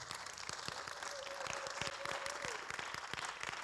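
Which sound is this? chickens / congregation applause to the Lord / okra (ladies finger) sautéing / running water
congregation applause to the Lord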